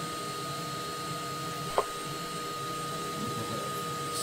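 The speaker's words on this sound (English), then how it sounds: "going to hoover that off" A vacuum cleaner hoovers out a Varde Samso multi-fuel wood burning stove with a twin wall flue pipe, a steady broadband drone running unbroken throughout with one brief click partway through.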